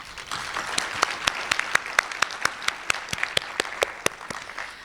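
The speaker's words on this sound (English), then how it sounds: "if I may just pause for a round of applause for everyone" Conference audience applauding at Wits University's Siyaphumelela event, a thin spread of clapping with a few distinct, sharp nearby claps standing out over the softer crowd, steady for the whole stretch.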